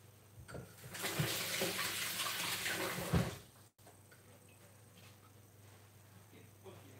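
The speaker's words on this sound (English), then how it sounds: "I'm just going to wash my hands." Hands washed under a running kitchen tap, a steady broadband rush of water lasting about three seconds before cutting off, leaving quiet room tone.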